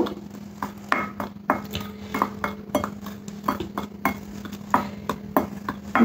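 A spoon or whisk clinks against a bowl while flour, cornflour, salt and ground pepper are mixed for a vegetable cutlet batter, giving a steady series of sharp, close taps and scrapes in a quiet kitchen.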